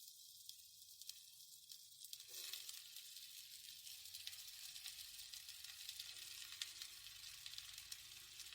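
Finely chopped onions sizzle in hot oil in a kadai, a steady, bright crackling hiss that continues throughout, with a faint stir or scrape near the start.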